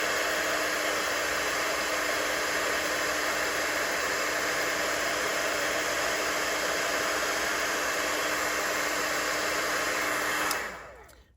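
A heat gun used for heat embossing on a stamped botanical card blows a loud, steady whooshing roar close by for about ten seconds, then switches off and winds down.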